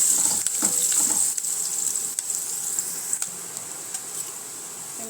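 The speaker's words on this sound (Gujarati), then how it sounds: "અડધી ચમચી વઘાણી, થોડા સૂકા મસાલા, મીઠા લીમડાના પાન, લીલા મરચાં, આ બધા મસાલા આપણે સરસ રીતે તેલમાં સાતળી લેવાના છે." Cumin, dry spices, curry leaves and green chillies frying in hot oil, a loud continuous bright sizzle with crackles and a few pops, strongest at the start and easing slightly, close and with no voices.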